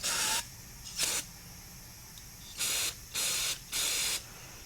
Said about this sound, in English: we're going to blow it out with some Carb Clean